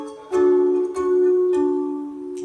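Mini-kinnor lyre harp with two strings plucked together, three clear ringing strikes spaced about half a second apart, each sustaining and decaying close and alone.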